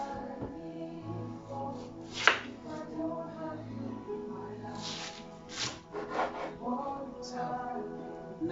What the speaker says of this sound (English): So I cut and peel it off, peel the skin off.